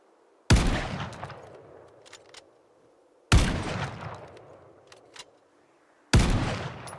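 Three sharp, loud gunshots in Project Zomboid Build 42, spaced about three seconds apart, each with a booming decay and a faint metallic rattle between shots.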